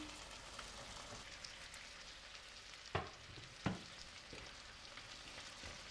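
Chopped carrot and potato sizzle faintly in a pan as a soft continuous crackle, punctuated by two sharp knocks of a utensil against the pan in quick succession.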